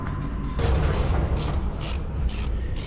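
A 7mm tool works headlight bolts loose on a C6 Corvette, making a run of close, repeated mechanical clicks and ratcheting bursts against a dense, noisy background.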